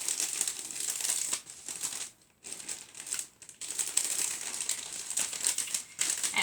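Wrapping paper crinkles and rustles in bursts as a gift is folded and taped down along a fold, with a short quiet pause partway through; the sound is close and fairly soft, with no talking.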